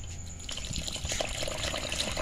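Water is poured into semolina to mix a batter for a sweet, a soft steady trickle and splash lasting a couple of seconds, close and moderately quiet.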